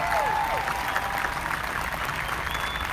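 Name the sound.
applause at high school graduation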